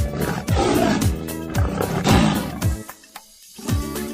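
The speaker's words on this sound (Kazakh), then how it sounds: "арыстан" A lion gives deep, loud roars spread across the clip with a brief quiet gap near the end, heard over a repeating rhythmic music beat.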